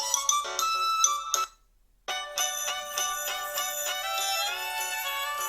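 Ringtone from a Lenovo S5 phone, a bright electronic melody of quick tinkling notes that stops briefly, then resumes, loud and close with no talking.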